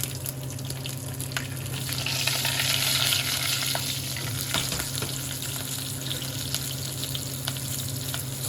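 Mustard seeds, cumin and green chillies frying in hot oil for masala rice, a steady close sizzle with crackling pops and occasional stirring, no voices.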